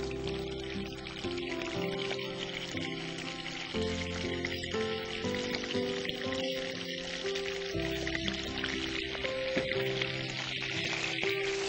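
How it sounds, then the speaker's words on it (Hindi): Chicken pieces fry in hot oil with a continuous crackling sizzle, heard under steady background music. "तो अब हम इसमें पहले चिकन फ्राई करेंगे।"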